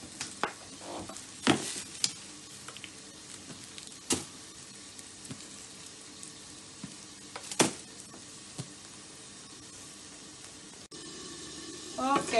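Liver frying in a pan makes a low, steady sizzle, with a few sharp clicks and clatters of handling scattered through it.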